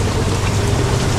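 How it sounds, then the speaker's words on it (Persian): Heavy rain pours steadily and loudly over a riverside lodge with a gazebo, a dense unbroken hiss with a low rumble beneath and no voices. "بارون هم که خیلی خفن داره میباره"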